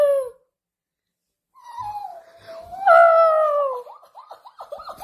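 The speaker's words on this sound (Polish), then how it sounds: "Piesek!" A dog lets out long, wavering howls and whines, rising and falling in pitch, followed by a run of short yelping cries, fairly close.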